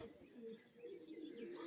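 A male black-line pigeon coos faintly and softly in a few low, rolling phrases, with faint chirps around it.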